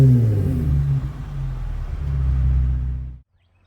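Jeep JT Gladiator fitted with a Magnaflow exhaust pulling away outdoors, a deep rising exhaust rumble that swells briefly and then cuts off abruptly, no voices.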